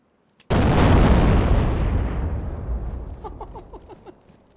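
An explosion in DayZ blows open a padlocked gate at a car yard, a single loud sudden blast that rolls into a long fading rumble, with faint chirpy sounds near the end.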